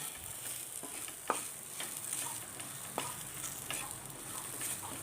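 Okra fries in coconut oil with a soft, constant hiss, while a spoon makes an occasional faint scrape or tap in the pan.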